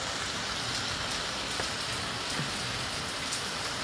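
Heavy rain falls in Jammu, a dense, steady hiss of drops striking surfaces that stays even and unbroken with no voices.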